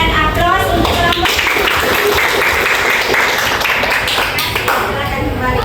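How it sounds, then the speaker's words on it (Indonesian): A classroom audience claps for a student group that has just finished presenting, a dense, steady burst of applause lasting several seconds at close range, with voices mixed into the clapping. "Mari kita berikan aplaus untuk kelompok"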